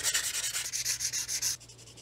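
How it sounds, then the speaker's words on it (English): Sanding the surface of a Classic Mini cylinder head, a close, steady back-and-forth scraping in quick regular strokes that carries on alone without any talking. "We're going to give it a quick sand and a quick polish."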